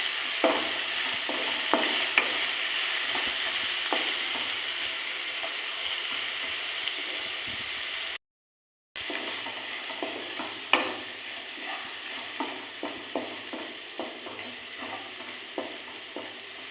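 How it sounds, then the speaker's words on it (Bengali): Papaya frying in a pan with salt and turmeric, a steady sizzle broken by repeated spatula stirs and scrapes, with a brief dropout midway and no speech. "পেঁপেটাকে এইভাবে 2 মিনিট ভেজে নেব"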